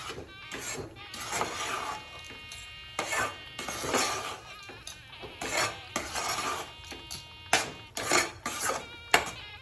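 Ashoka halwa with ghee and sugar being stirred in a pan, a spoon scraping and clinking against the metal in steady, repeated strokes, close and fairly loud, with no talking.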